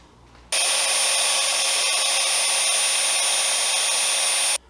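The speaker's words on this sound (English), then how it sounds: "I'll try just grinding it on sandpaper." Magnesium being ground on sandpaper, a loud continuous scraping rasp that starts abruptly and holds steady for about four seconds before stopping.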